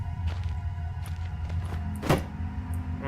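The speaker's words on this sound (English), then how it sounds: "Wooden door. I hope it's open." A wooden door swings open in Penumbra: Overture with a creaking, rattling movement and a brief sharper knock midway, quiet and close, over a steady low ambient hum.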